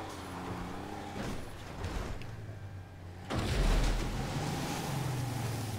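Truck engine drives off-road in the video game GTA 5, a steady rumbling drone that surges louder partway through, close and continuous.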